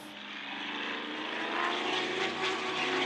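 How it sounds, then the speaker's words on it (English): A racing boat with a turbocharged Barra straight-six engine roars steadily at high revs, its sound loud and sustained and swelling slightly as it passes. "trying to catch this turbocharged Barra engine"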